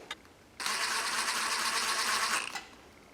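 A roughly 50-year-old log splitter's hydraulic pump starts up and spins noisily for about two seconds, a steady loud whirring mechanical drone that then cuts off.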